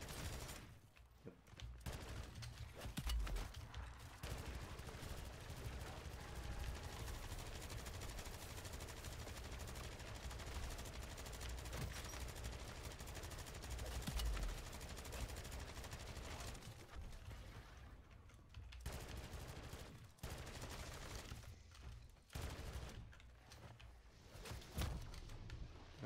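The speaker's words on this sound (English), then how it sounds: "It took me like 3 shots to like destroy the zombie." Video game gunfire from shooting zombies, a dense, continuous barrage of rapid shots lasting most of the stretch, with brief pauses, heard without speech.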